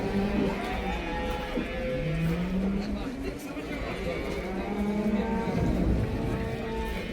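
At the Karabulak cattle market, cows give a few low moos that rise and fall beneath someone talking, with a constant background hum of the busy market.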